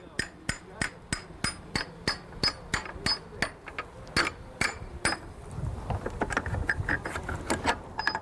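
Rapid, evenly spaced hammer blows ring out on a boat engine's metal tilt tube, loud and close, then give way to looser rattling and clattering.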